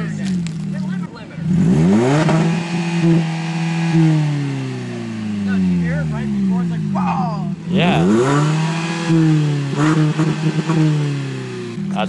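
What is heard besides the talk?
car engine revving with muffler delete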